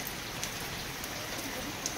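Heavy rain pours down steadily in a broad, even hiss that stays close and loud throughout, with no speech and only a couple of faint drips standing out.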